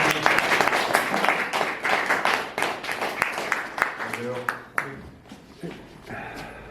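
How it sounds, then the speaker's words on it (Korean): Steady applause from an audience welcoming a guest lecturer, dense clapping that thins into scattered claps near the end, with a voice briefly heard over it. "뜨거운 박수로 환영하겠습니다."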